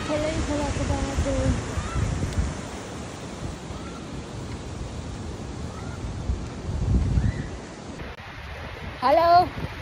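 A mountain river rushes beside a trail on the Langtang trek in Nepal, giving a steady, close roar of flowing water, with brief voices at the start and end.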